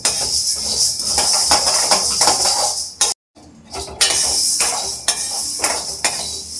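Black urad dal being dry-roasted and stirred in a pan, with a steady scraping, clinking rattle of grains against metal, loud and close, broken by a brief silent gap midway before the stirring resumes.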